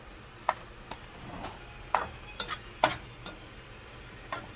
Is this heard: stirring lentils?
yes